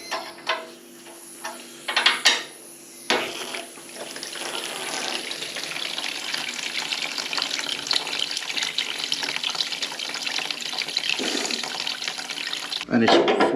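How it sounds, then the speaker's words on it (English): Water drains from a domestic heating radiator system into a funnel, a steady close hiss and gush that runs continuously after a few brief opening splashes and knocks. "just drain out that water."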